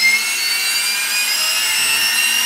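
Electric turbine fans on a turbine drone's yaw thrusters throttle up, giving a steady high-pitched whine with several tonal lines that hold loud and even throughout.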